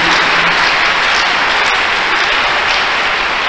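Congregation clapping in worship at a church service, a dense, steady wash of applause filling the whole stretch at loud, even level with no voices.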